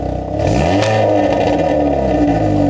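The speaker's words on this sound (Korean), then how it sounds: "살짝 이 버블, 팝콘 음이" A Hyundai Veloster N in N mode revs close and loud, with a rising exhaust roar and faint crackling pops as the throttle is blipped.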